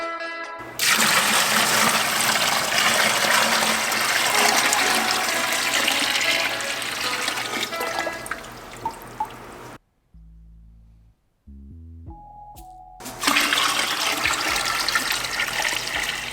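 Water gushing steadily into a 5-gallon bucket aquarium over rinsed play sand, a loud continuous rushing pour that breaks off briefly with quiet knocks before surging again.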